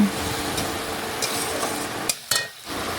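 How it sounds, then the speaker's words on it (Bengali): A spice paste with onion and tomato is stirred and fried in a pan, giving a close, steady sizzle with a few sharp utensil scrapes and knocks near the end. "এখন নাড়াচাড়া করে মিশিয়ে মশলাটা একটু ভালোভাবে ভেজে নিচ্ছি।"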